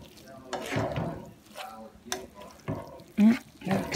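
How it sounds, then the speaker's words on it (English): Food is stirred in a pan of egg whites and broccoli in short scraping, sizzling bursts separated by brief gaps, fairly faint and close. "Stir it up till everything is well distributed"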